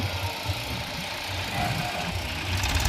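A John Deere tractor engine runs steadily on farm land, a continuous low mechanical rumble with a faint knocking quality, fairly close and even in level throughout with no talking.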